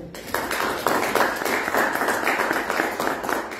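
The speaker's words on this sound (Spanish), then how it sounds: "Pido un aplauso para él fuerte, por favor" An audience in Querétaro applauds at a literary event honoring the poet Jesús Zarazúa, a short burst of steady, moderately loud clapping from many hands.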